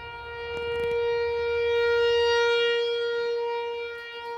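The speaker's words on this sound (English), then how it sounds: "it's the tornado siren of Saturday afternoon" A tornado siren in Oklahoma wails a steady, multi-toned howl that swells and fades slowly as it rotates, heard from a distance with faint low background rumble.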